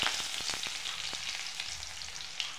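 Maggi noodles with garlic and coriander sizzle in a spoonful of oil in a kadhai, a steady close hiss broken by a few sharp clicks of stirring, with no talking.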